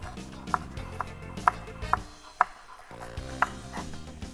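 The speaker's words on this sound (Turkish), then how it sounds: "incecik bir şekilde bunları da doğruyorum" Sharp knife taps against a cutting board while finely chopping green onions, irregular and close, about six distinct chops over a steady low background hum.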